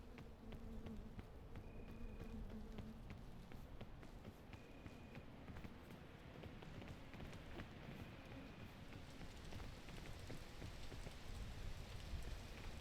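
Rain patters steadily across the ground in the video game PEAK. A constant soft hiss runs throughout, with a faint insect-like buzz weaving in and out and no one talking.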